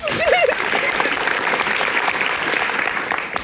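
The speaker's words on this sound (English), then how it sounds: "The applause sign turns on." A theatre audience applauds at a live stage performance, continuous dense clapping filling the room, with a brief voice-like tone near the start.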